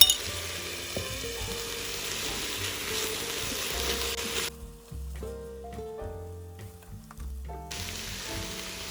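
Onion with garlic paste frying in an Instant Pot for minestrone soup, a steady sizzle under intermittent scraping and clicking from stirring, with the hiss dropping away partway through before returning.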